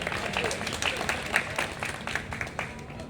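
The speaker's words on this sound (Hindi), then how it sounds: "तालियां कम हैं आपकी।" Audience applause at a Hindi poetry recital, a steady wash of many hands clapping in a hall with a few sharper individual claps standing out, moderately loud and continuous.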